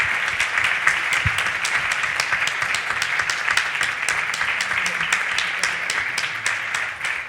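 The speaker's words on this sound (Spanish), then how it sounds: "yo les pido por favor un aplauso para mi maravilloso colega Gustavo." An audience at a book presentation applauds a colleague, a loud, sustained crowd of clapping hands with a fairly even, bright texture throughout.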